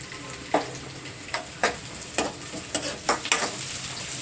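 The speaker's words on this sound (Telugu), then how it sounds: "ఈ పచ్చిమిర్చి అలాగే కరివేపాకు కూడా ఫ్రై అయిపోవాలి" Green chillies and curry leaves frying in a pan, a constant crackling sizzle punctuated by several regular spatula scrapes and taps against the pan.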